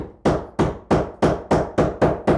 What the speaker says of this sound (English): all I need to do is put the wedge in place, drive it in there